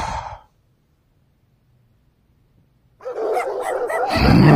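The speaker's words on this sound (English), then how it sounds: "Whoever's making all that barking out there, quiet down!" A burst of dog barking and yipping after a stretch of near silence, growing louder and closer toward the end.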